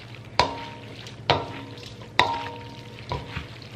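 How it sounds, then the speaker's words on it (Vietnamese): Korean glass noodle salad with sesame oil being tossed in a bowl, with four distinct clinking knocks of a utensil against the bowl, each ringing briefly, over soft mixing noise. "bây giờ mình sẽ trộn lại nha cả nhà"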